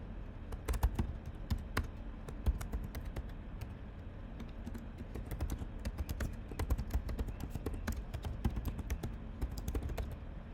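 Fast, continuous typing on a computer keyboard as text is entered, a dense run of crisp key clicks with irregular rhythm, close and fairly quiet with no voice over it.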